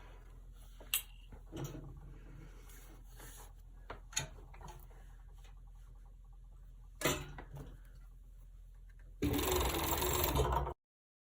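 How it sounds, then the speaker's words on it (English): A serger stitches around a child's sweatsuit, running in a loud sustained burst near the end after scattered clicks, taps and quiet handling noises. "So you're gonna start serging from here and go all the way around and end there."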